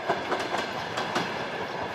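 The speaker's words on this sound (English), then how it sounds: "The trains are from the Soviet era." A Soviet-era train arriving at Lviv station, with loud rhythmic clickety-clack of wheels over rail joints repeating several times in two seconds and a steady rolling rumble beneath.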